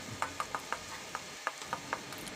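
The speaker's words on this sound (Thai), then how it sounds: "ทำการผัดให้หอมเลยนะครับ ผัดให้พริกและกระเทียมของเราหอมครับ" Red chilies and minced garlic stir-fried in a pan, a faint steady sizzle under a series of soft, evenly spaced spatula scrapes, about nine strokes, close up with no talking.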